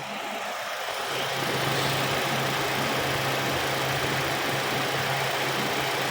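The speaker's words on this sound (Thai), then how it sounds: "อันนี้ผมสตาร์ทเครื่องแล้วก็เปิดแอร์เรียบร้อยนะครับเดี๋ยวเรามาฟังเสียงเครื่องกันดู" A 2017 Toyota Altis 1.6G engine idles steadily with a low, even hum and faint rumble, joined by a constant whirring hiss from the air conditioning, heard up close without speech.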